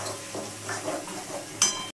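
Chilli, coriander and cumin powders are stirred and sautéed in a pan for a raw banana kofta curry, giving a short run of soft scraping, clinking stirs over a low sizzle.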